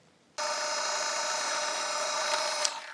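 A power drill bores a small pilot hole into a piece of wood at a pencil mark, a steady close whine that starts abruptly and runs without pause, a brief rise near the end, then eases off.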